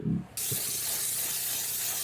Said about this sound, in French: je vais passer avec la vapeur sur le tissu uniquement